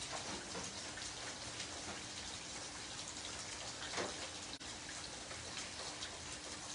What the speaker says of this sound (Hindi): तो सुबह से लगातार बारिश जारी है